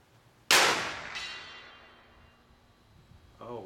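A single sharp crack from a big bore Marauder air rifle, a loud close report with a metallic ring that decays over a couple of seconds, followed by a faint distant clang of the pellet striking its target.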